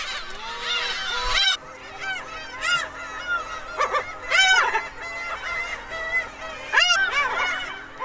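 Black-tailed gulls call from a breeding colony, with many harsh, honking cries overlapping continuously at close range, rising and falling in loud bursts over a steady background.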